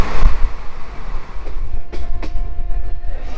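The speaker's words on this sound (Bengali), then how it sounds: "আর আমাদের ট্রেন এসে পৌঁছালো কিন্তু এনজিবি স্টেশনে।" A train rolls into NJP station, a loud close rumble of wheels and carriages with faint squeals over a steady low roar.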